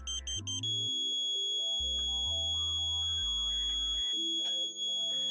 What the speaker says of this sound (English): Very slowly until you hear the continuous tone.